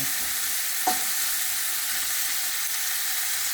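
Onions sautéing in a pan for a ginisang erbette dish, a steady close sizzle and frying hiss throughout, with one brief knock of a utensil against the pan.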